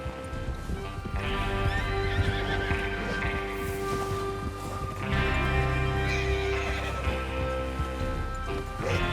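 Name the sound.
horses galloping in Red Dead Redemption 2 video game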